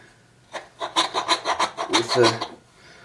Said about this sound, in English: It's got a flat rasp and a flat file on one side.